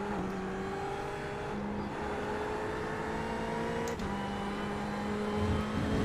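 Mercedes race car at Monza in a racing video game, a steady engine drone with tonal whine that holds at constant level throughout, with a brief shift near the middle as the car brakes.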